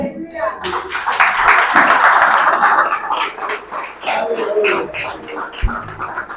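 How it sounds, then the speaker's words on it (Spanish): Applause breaks out from a congregation during a Spanish-language church service, a dense burst of clapping lasting a few seconds before fading, with a preacher's voice talking over and after it. "Dale un aplauso al Señor."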